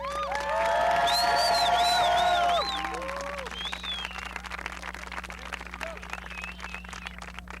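Audience applause at a 1998 high school commencement ceremony: a burst of clapping mixed with cheers and high whistles at the start, then thinning to scattered claps that continue to the end.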